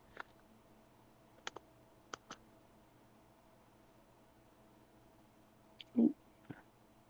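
Sparse, faint clicks from a computer keyboard come as isolated taps with long gaps, plus a soft thump near the end, over quiet room hiss.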